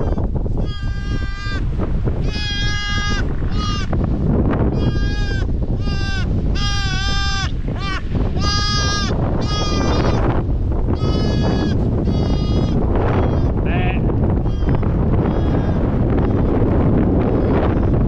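Sheep and young lambs bleat repeatedly in an outdoor lambing field during Storm Kathleen, a run of loud, close calls one after another over a steady roar of wind.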